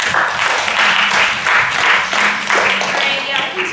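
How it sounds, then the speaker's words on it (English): Audience applause at a university election forum, a rolling wash of clapping with voices speaking over it. "continue another round of applause"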